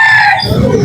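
A rooster for sale at a poultry market gives a loud, close crow that slides into lower clucking sounds, short and alone.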